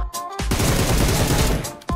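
A close, loud burst of rapid automatic gunfire crackles in the shooter game Metro Escape, a dense volley lasting about a second and a half with no talk over it.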